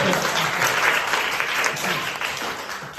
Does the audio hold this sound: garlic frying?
no